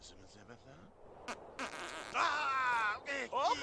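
A voice imitates a fart in ventriloquist style, a buzzy, wavering blurt that rises near the end after some quiet murmuring and breathy sounds close by.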